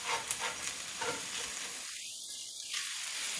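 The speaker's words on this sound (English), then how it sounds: "Let's mix that in well." A flour mixture for New Mexico red chile sauce is stirred in a hot pan, giving a steady sizzling hiss with soft scraping that continues throughout, with no voices.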